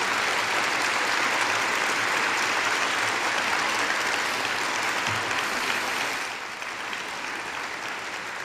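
A debate audience applauds steadily and loudly in a hall at the close of a 1986 socialism-versus-capitalism debate, sustained clapping that eases slightly near the end.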